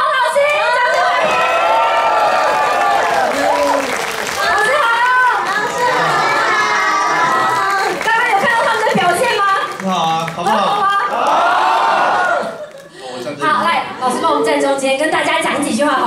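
A crowd cheers and shouts loudly at a debut single press conference. Excited high voices overlap almost without a break, dip briefly near the end, and carry little distinct clapping.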